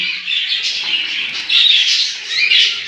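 Cockatiels and budgies in a home breeding cage give off a steady, fairly loud wash of squawks and chirps, many birds calling at once with no voices over them.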